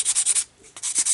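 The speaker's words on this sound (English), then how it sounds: "Might use my sanding block." Sanding block rubbing the edges of wooden earrings in quick, close, scratchy strokes, about four rapid passes, a short pause, then several more, with no talking.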